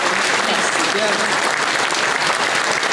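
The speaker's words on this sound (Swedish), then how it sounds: "stora applåder till dem." Large audience at a Swedish association awards gala in Borås giving a big, sustained round of applause, dense and loud throughout, with a voice speaking briefly over the clapping.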